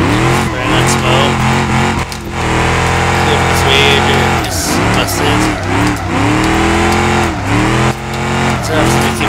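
Car engine in BeamNG.drive revving hard with a busted, leaking radiator after hitting a tree, a loud continuous drone with rising and falling pitch sweeps, while someone talks over it.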